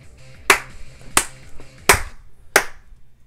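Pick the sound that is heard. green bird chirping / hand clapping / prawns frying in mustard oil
hand clapping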